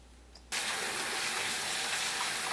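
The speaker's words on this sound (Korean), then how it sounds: "물에 한번 헹구고" Running water suddenly gushes on from a tap to rinse dried radish greens (siraegi), a loud, steady splashing stream after a brief quiet start.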